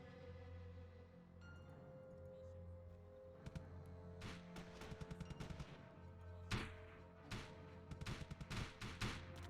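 Sustained gunfire from the WWII strategy game Theatre of War's French campaign: bursts of rapid machine-gun fire and single shots crackle over a steady engine drone, growing denser and louder toward the end.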